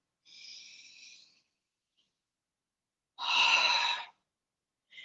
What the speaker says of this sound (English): You're breathing in from your stomach, from your nose, exhaling out through your mouth.